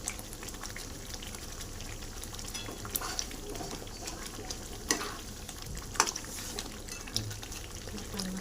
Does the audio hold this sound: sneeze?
no